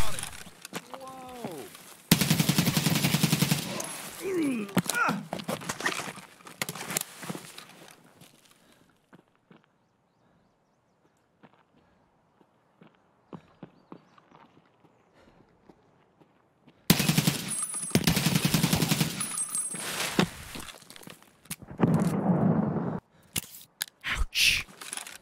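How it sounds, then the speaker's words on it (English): Bursts of machine-gun fire crackle in Escape from Tarkov, with long loud volleys at the start and again near the end, separated by a quieter stretch of scattered shots and footsteps. "MG is engaging somebody."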